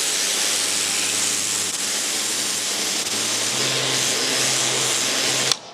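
A Karcher battery-powered pressure washer sprays continuously with a loud, steady hiss and motor drone for several seconds before abruptly shutting off at the end.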